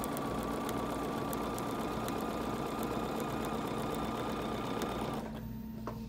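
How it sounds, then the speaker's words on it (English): A sewing machine stitches a quilt block along a drawn line, running in a steady, even, close mechanical whir that stops abruptly near the end, leaving a quieter hum. "And I'm going to sew right down that line that I drew on the other side."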